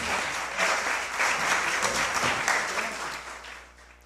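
An audience at the Prêmio Chico Mendes award ceremony applauds in a dense, continuous round of clapping that swells and then gradually thins out toward the end, with no one speaking over it.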